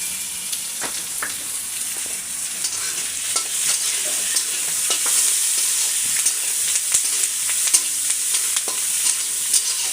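Chepa shutki, fermented dried fish, fries with garlic and onion in a pan for Rangpur-style sidol, a steady close sizzle with repeated scraping stirs of a spatula throughout.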